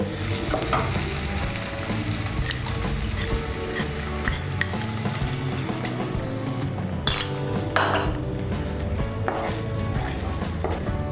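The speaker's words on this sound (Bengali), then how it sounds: "কর্নফ্লাওয়ারটা ভালো করে মিশিয়ে নেব।" A spoon stirs cornflour slurry into chilli egg frying in a pan, scraping and clinking against the metal over a continuous sizzle, with a few sharper utensil knocks near the end.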